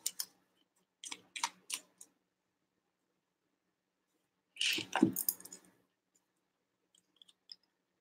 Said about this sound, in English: Let me do a good shuffle and to the cards.